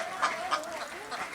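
Ducks quacking at a duck farm, a few raspy calls over a steady murmur of the flock, moderately close, with faint voices nearby.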